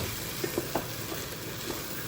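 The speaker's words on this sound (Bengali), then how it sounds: "এমনি সিদ্ধ চালেরই খিচুড়ি হচ্ছে, মুগ ডাল মসুর ডাল দিয়ে সমস্ত মশলাগুলোর সাথে একসাথে মিশিয়ে নিচ্ছি।" Khichuri of rice, mung and masoor dal being stirred with spices in a pot, a soft steady sizzle broken by a few light scraping clinks of a spoon, close and quiet.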